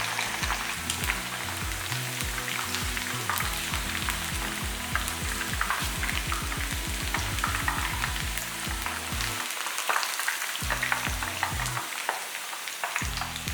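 Chicken pieces coated in Kashmiri chilli masala fry in hot oil for a chicken dum biryani, giving a dense, steady sizzle that runs the whole time, with music playing underneath.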